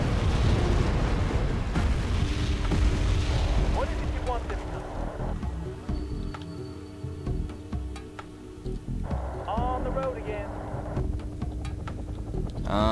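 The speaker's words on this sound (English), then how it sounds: "Now they're going to be launching artillery at me!" Artillery explosions in the strategy game Wargame: AirLand Battle: heavy rumbling blasts at first, then quieter scattered pops and crackles over a low, continuous battlefield din.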